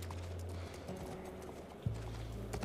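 Horse hooves in The Last of Us Part I clip-clop at a steady pace over a low droning hum, fairly quiet, with a brief thump partway through.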